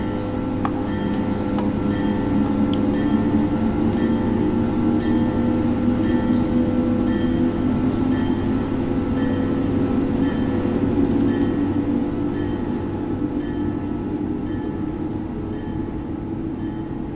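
Amtrak AEM-7 electric locomotive at full power in Train Simulator 2020, a steady loud rumble and hum with layered tonal drones, faint rhythmic clicks over the rails running throughout, no talking.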